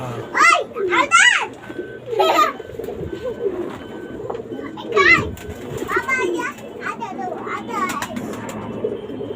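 Pigeons coo softly in the background while children's voices chatter and call out loudly over them.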